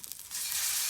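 Fish frying in hot oil, village style: a sudden hiss as it enters the oil, then a dense, loud, steady crackling sizzle up close.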